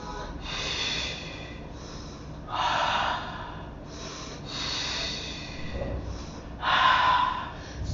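Heavy, rhythmic breaths during a yoga HIIT workout, loud forceful exhales and snorting gasps in bursts about every two seconds, close to the microphone.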